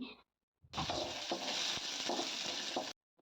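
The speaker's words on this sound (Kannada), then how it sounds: "ಸ್ವಲ್ಪ ಬೆಳ್ಳುಳ್ಳಿ ಫ್ರೈ ಆದ ನಂತರ ತಗೊಂಡಿರೋ ಎರಡು ಈರುಳ್ಳಿನ ಹಾಕ್ತೀನಿ" Onions sizzle and fry loudly in hot oil with garlic in a pan, a steady bright hiss that starts abruptly, carries light stirring noises, and cuts off after about two seconds.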